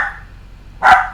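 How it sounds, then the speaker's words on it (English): A small yappy dog gives a single sharp bark at close range, following a fainter whine-like tone at the start. "It's making my dog bark."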